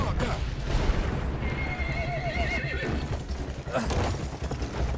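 A horse whinnies loudly amid Battlefield 1 game noise, with hoofbeats clopping and a dense rumble of distant explosions and battle sounds throughout.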